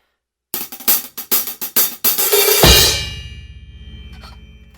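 Hi-hat drum intro fill at full speed: a quick run of about seven close, crisp strokes that opens into a sustained open hi-hat wash fading out over a couple of seconds, with no voices.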